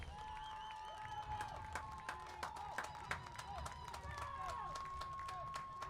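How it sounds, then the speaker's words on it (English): Stadium crowd gives a scattered round of applause as a player is substituted off late in a Med City FC vs Duluth FC soccer match, distant claps under steady commentary. "Francisco Neto walks off to a giant round of applause"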